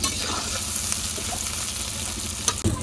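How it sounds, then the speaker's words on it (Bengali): Chopped onions frying in hot oil in a wok, a loud, dense sizzle with light stirring and a sharp clatter near the end. "তেল দিয়ে দিলাম কড়াইতে,"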